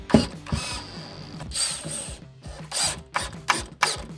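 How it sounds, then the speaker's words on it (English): A ratchet drives supplied pan head screws into wooden corner blocks on a DIY dining table with cabriole legs, giving close, crisp bursts of rapid clicking that stop and start several times. "all we have to do is install the supplied pan head screws"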